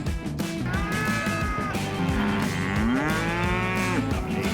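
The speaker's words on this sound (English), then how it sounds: "Donkey." A donkey brays outdoors on a Florida wild boar hunting trail, loud, drawn-out harmonic calls that rise and fall in pitch, repeating without a break across the whole stretch.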